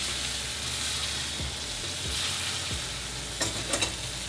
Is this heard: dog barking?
no